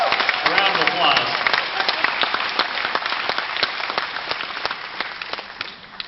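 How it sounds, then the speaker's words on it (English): Applause from a crowd at the South Bay Tea Party Convention, loud and steady with dense hand claps and a few sharp individual claps, fading slightly toward the end, with a brief cheer early on. "Let's give these folks a round of applause"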